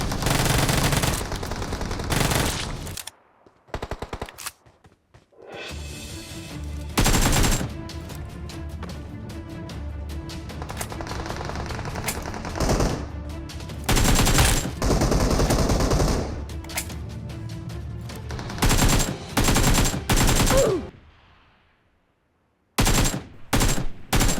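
Automatic and rapid gunfire from the battle royale game PUBG Mobile, loud bursts and sustained volleys with short pauses and abrupt breaks, running across most of the stretch.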